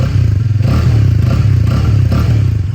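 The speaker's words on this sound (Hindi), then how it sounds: "और ये है इंजन की आवाज़, इतनी आवाज़ करता है ये" A Hero Karizma XMR 210 motorcycle engine runs at idle up close, a loud, steady low thrum with a mechanical clatter riding on it throughout.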